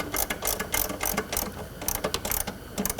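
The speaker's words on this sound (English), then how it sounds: "But when you're tightening this clamp down," A ratchet tightens the battery hold-down clamp on a 1996–2006 Mercedes-Benz Sensotronic brake backup battery, giving rapid bursts of close, crisp clicking in quick repeated strokes.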